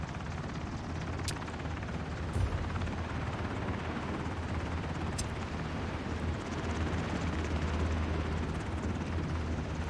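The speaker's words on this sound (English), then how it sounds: "Can you land on the chopper?" Helicopter in the video game Ring of Elysium, a steady low rotor and engine drone holding throughout at moderate level, with a couple of faint brief clicks and no voices.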